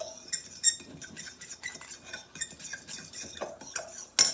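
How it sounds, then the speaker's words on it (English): Flour is stirred into muffin streusel in a bowl with a utensil: a close series of light scrapes and bright clinks against the bowl, uneven in rhythm, ending with a sharper clatter, no voices. "Stir that in."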